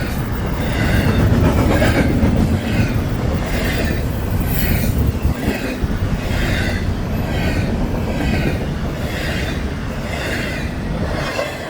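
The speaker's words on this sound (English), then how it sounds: "There's the northbound train out of Miami this morning." A northbound Florida East Coast Railway train rolls past close by, loud rumbling with rhythmic clickety-clack of wheels over rail joints and faint squeal, continuous throughout.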